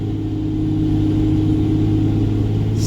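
A 2G Cummins truck engine pulling in second gear, a steady, loud low rumble with a sustained droning hum, heard from inside the cab without voices.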